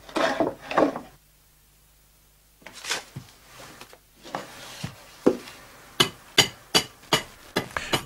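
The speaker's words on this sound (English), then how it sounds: "The seat is trimmed with a hand axe or hatchet." A hand axe or hatchet trims a wooden chair seat. A few sharp chops are followed by a brief pause, then a run of crisp, close blows that grow quicker and louder toward the end.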